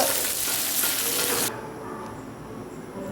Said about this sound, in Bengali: এদিকে মাছ ভাজা হয়ে গেছে প্রায়